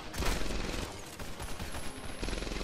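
Dense, continuous gunfire from the World War II shooter Medal of Honor Airborne, rapid overlapping shots and bursts filling the whole stretch at a steady, busy level with no clear pauses.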